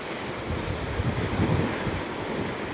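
Strong wind buffets a microphone on a UK sea coast in rough weather, with the steady roar of breaking waves underneath, loud and continuous with no talk.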